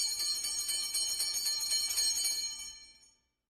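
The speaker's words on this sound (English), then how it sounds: "the school bell is ringing" A school bell rings at half past eight in the morning, a bright, sustained metallic clanging that holds steady for about three seconds before cutting off into silence.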